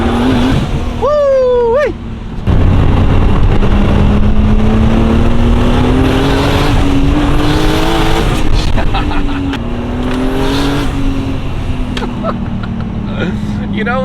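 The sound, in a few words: BMW E36 wagon accelerating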